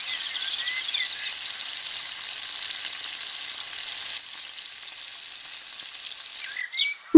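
Tadka sizzles and crackles steadily in hot oil as it is added to moong and masoor dal, a continuous close frying hiss that eases slightly near the end before a brief clink.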